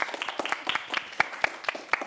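A small group claps for a person introduced on stage, the claps uneven and fairly sparse, individual hand strikes standing out in a quick irregular rhythm over a couple of seconds.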